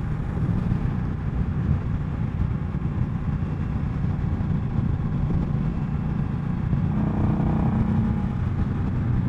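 A 2020 Indian Scout Sixty motorcycle ridden in fourth gear at about 3,400 rpm gives a steady, close engine drone mixed with heavy wind rush, with no break throughout.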